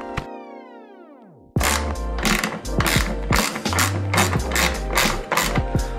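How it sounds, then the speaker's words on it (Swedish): Screws are being loosened on a BMW E36 headlight. A brief ringing tone gives way to rapid, close, repeated ratcheting clicks and mechanical turning noises. "Så ni får se när jag skruvar på någon skruv kanske lite grann."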